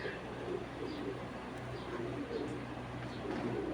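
Pigeon cooing softly in a loft among other pigeons, repeated low coos at a distance under a steady background hum.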